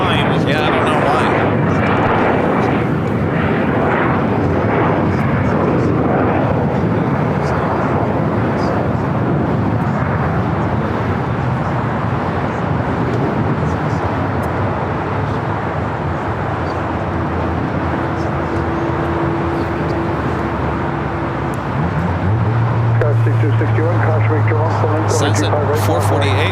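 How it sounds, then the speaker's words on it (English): A Cathay Pacific cargo jet takes off from LAX's south-side runway 25R, its engines a loud, sustained broadband roar with a low hum rising near the end, while people talk over it. "That is the next takeoff here on the south side at 250 right"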